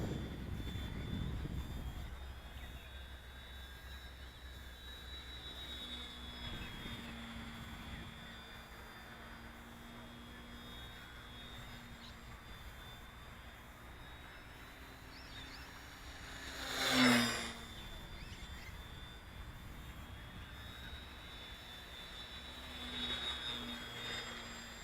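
A Durafly Bravado 1000mm 3D/sport RC model airplane flying aerobatics, its electric motor a steady distant whine with a louder swell as it passes closer partway through, then fading back.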